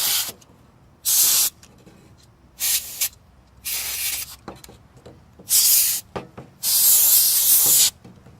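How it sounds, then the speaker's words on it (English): Compressed air blows dust out of a desktop computer's cooling fans in several loud hissing bursts of varying length, separated by short quiet gaps, with a long blast near the end. "I'll reach in and hold on to the lower fan's blades and blow out the dust."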